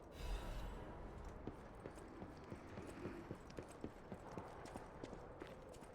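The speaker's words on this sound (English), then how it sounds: "I hear footsteps near me" Footsteps close by in the video game Lies of P: a steady run of evenly spaced, hard clopping steps over a low, muffled background rumble, fairly quiet overall, with no voices.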